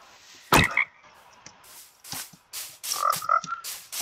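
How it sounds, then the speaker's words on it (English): Frogs croak in Minecraft Education Edition, a sequence of short, clear croaks and gulping calls at an uneven rhythm, close and isolated with no talk. "I forgot they added the frogs."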